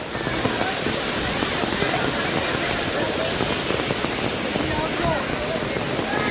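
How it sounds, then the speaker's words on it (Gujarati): A waterfall swollen by heavy upstream rain roars loud and close at Gaumukh temple in Songadh, Gujarat, a constant broadband rush of falling water that stays even throughout. "અત્યારે ધોધમાં છે ને પાણી થોડોક વધારો થયો છે, થોડુંક વધારે પાણી આવે છે"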